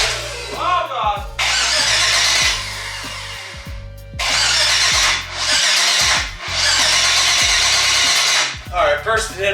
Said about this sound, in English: I'm just gonna see if it'll start up